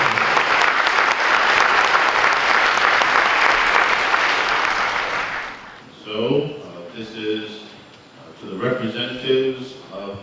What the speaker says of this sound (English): so please give me a big round of applause.